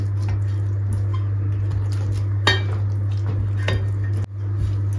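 Oil goes into a metal baking tin for an apple charlotte, and the tin gives a few light, scattered clinks over a steady low kitchen hum.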